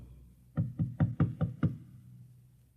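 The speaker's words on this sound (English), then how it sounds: "And then there was a knock on the door." Six sharp knocks on a wooden door in an old-time sci-fi radio drama, evenly spaced and close, standing alone against a quiet background.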